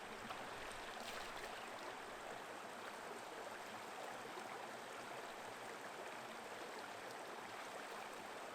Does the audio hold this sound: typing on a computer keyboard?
no